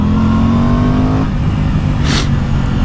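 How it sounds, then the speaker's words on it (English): A 2023 Aprilia Tuono 660 Factory motorcycle's engine revs up and drops off as the bike is ridden, with a steady droning tone cutting out midway, followed by a brief hiss of wind or exhaust. "I just cannot get over the sound of this bike"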